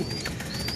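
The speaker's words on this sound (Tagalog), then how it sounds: "sobrang kulit na itong kalapating lagi nasa puno" A pigeon perched in a tree in Munoz, Nueva Ecija gives a short, close, clear coo, heard alone.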